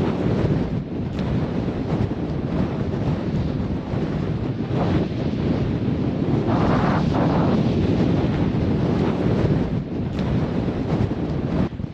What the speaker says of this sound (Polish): Tak wieje niesamowicie, naprawdę, bo taki wiatr jeszcze nie jechałem nigdy w życiu.